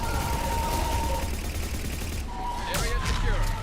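Weapon fire in the video game Mass Effect 3 during a fight against a harvester, heard as a dense burst of rapid shots over steady game music and effects, with a sharper crack near the end.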